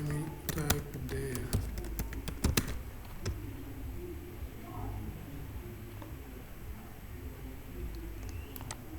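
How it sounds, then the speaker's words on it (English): Python code being typed on a computer keyboard: rapid clusters of key clicks in the first few seconds, then sparse faint taps over steady room hum. "Let me type there."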